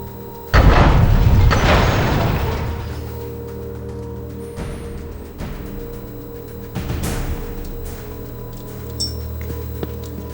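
Door in the video game The Last Remnant, a heavy booming thud and scrape as it opens, then quieter rumbles and a later thump over a steady low game ambience.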